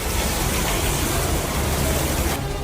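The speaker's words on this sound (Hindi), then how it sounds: "रूफ से इस तरह से पानी गिर रहा है जैसे कोई झरना हो।" Heavy rainwater pouring off the roof of Noida's Sector 62 metro station during a downpour: a dense, loud, constant rushing hiss of falling water fills the whole moment, with no voices heard.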